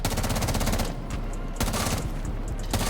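Gunfire in the Rainbow Six Siege shooting range, a tactical shooter video game, with sustained rapid automatic shots in steady bursts, loud and close, with no one talking.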